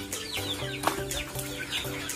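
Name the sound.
chickens clucking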